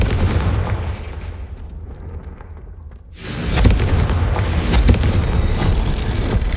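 A Confringo fire spell goes off in the game Hogwarts Legacy, a loud rumbling blast that swells after a brief dip, then a sustained roaring burn with crackling bursts up close, with no talk over it.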